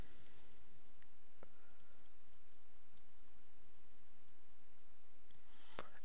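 A computer mouse clicks a handful of times, sharp, faint and irregularly spaced, in a quiet room with no other sound.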